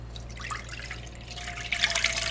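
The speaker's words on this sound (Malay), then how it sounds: "Kemudian masukkan air." Water poured into a heated pan for a mandarin orange raindrop cake, a close trickling and splashing of liquid over a steady low hum, growing brighter and louder toward the end.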